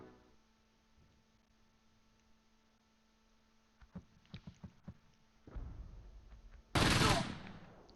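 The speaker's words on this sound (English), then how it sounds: "Maybe it'll cause the machine gun to open up and we can see it." Automatic machine gun fire in the Close Combat: Gateway to Caen World War II strategy game, a few sharp shots then a loud, dense burst near the end after a low ambient hum.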